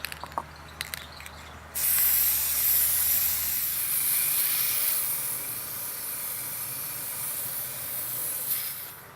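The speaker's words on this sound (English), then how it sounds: "and then I'm ready to start spraying." A steady, loud aerosol hiss of PlastiKote spray paint onto a wreath sprays continuously for several seconds after a few faint clicks and rattles, then eases slightly toward the end.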